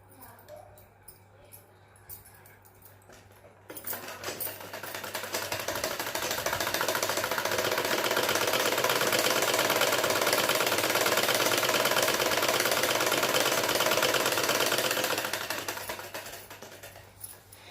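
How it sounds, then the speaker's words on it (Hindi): An electric sewing machine stitches a seam on a gown for a six-year-old child, starting after a quiet stretch with a steady, loud, rapid mechanical whirring and clatter that runs for about twelve seconds before slowing to a stop. "इस पे एक सिलाई लगाएंगे इस तरह से।"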